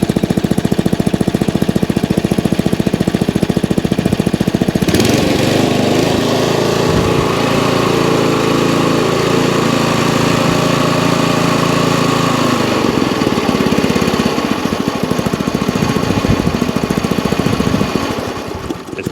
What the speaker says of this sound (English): If I can get that machine to idle just a touch lower,